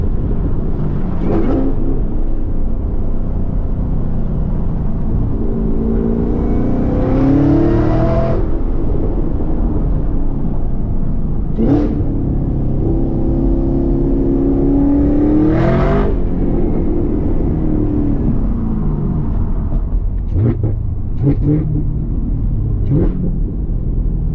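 A Chevrolet Camaro ZL1 1LE engine hums and revs through a series of rising and falling pitch sweeps on streets, with tire noise underneath, suggesting quick shifts through corners.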